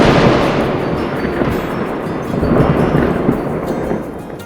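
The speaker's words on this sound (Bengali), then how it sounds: "বৃষ্টির সময় পাশ থেকে ভেসে আসে বজ্রপাতের শব্দ।" Deep rolling thunder rumbles continuously at an artificial rain area in Dubai, loud and sustained with swelling peaks, mixed with the wash of falling rain.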